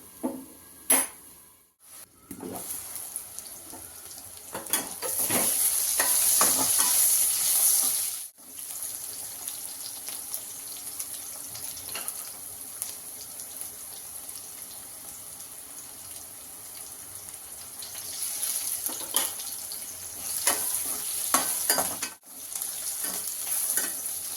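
Brinjal pieces fry and are stirred in a pan while vangi bath powder is made, giving a steady hiss with scraping and clattering strokes of the spoon close by, rising and easing across the clip, with no talk.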